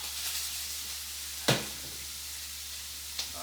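Oil sizzling in a pan while cooking spicy shrimp with tomatoes, a steady hiss broken by two sharp crackling pops, close and fairly quiet.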